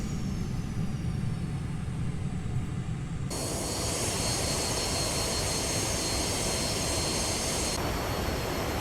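An A-6 Intruder jet in Microsoft Flight Simulator taxiing off the runway, its engine whine steady and continuous with a shift to a brighter, louder roar partway through, with no voices.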